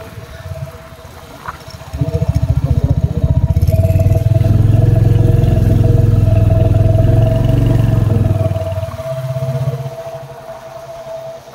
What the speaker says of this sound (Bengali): মানে এত সরু রাস্তার মধ্যে দিয়ে বাইক চালানো নটে যোগ